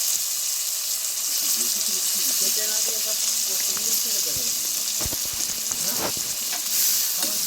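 Ginger paste, green chili, chopped tomato and ground cumin frying in a pan while being stirred, a bright continuous hiss with scattered scraping clicks of a spatula, close up.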